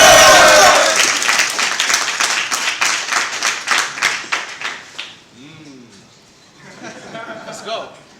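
Crowd at a rap battle event applauding and cheering loudly, rapid dense clapping for several seconds that fades into scattered claps and murmuring voices.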